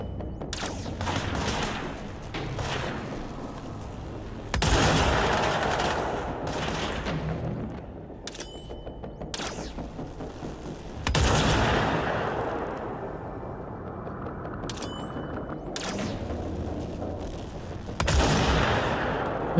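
Bursts of gunfire in the video game Control, several loud volleys spaced a few seconds apart with sharp cracks and rumbling tails, no talk over them.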